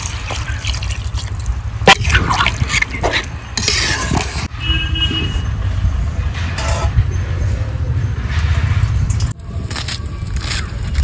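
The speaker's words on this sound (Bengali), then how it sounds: "মশলা যে জলটা রেখেছিলাম সেই জলটাই দিয়ে দেবো।" Reserved spice water goes into a pot of chicken curry, a continuous rushing, bubbling wash of liquid with occasional light clinks and short drips, loud and close.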